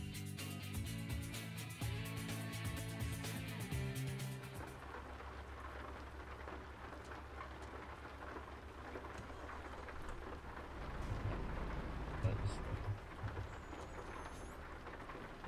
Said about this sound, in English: it's still like raining